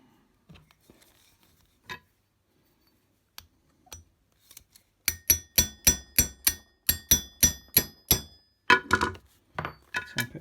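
A rivet being tapped into a leather holster belt, heard first as a few sparse taps and then as a rapid run of sharp metallic hammer strikes, close and loud, with no talking.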